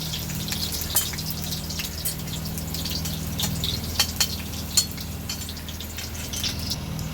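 Prawns frying in hot oil for a patal chingri dish give a steady bubbling sizzle punctuated by sharp crackles and pops, close up and without talking.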